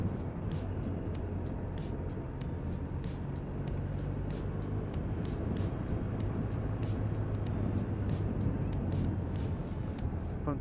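A BMW R1250RT motorcycle ridden on wet roads gives a steady engine drone under constant wind and road rush. Faint regular ticking runs across the top of the sound the whole time.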